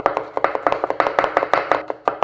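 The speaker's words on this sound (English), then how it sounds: "chopping moves quickly." A cleaver chops garlic on a cutting board in quick, even strokes, about five sharp knocks per second, close and loud with no talking.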